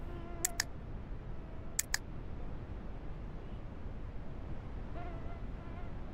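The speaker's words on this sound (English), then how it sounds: "We'll enjoy the mosquitoes." Mosquitoes whine at night during a duck hunt. The thin buzzing drifts faintly over steady outdoor background noise, broken by a few sharp clicks, and no one speaks.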